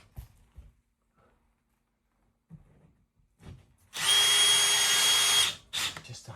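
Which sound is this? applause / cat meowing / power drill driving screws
power drill driving screws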